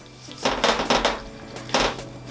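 Garlic chicken is flipped over in a pan, giving a few close clattering knocks of utensil against cookware in two quick clusters and then a single later strike, over a faint background hum.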